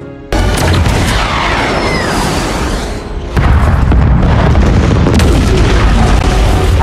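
Heavy gunfire and a booming explosion as an aircraft is destroyed in the film Atlas, loud and dense with rumbling blasts and debris, the impact surging sharply midway through.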